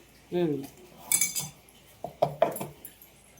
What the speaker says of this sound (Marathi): आणि थोडं परत मिक्स करायचं आहे आपल्याला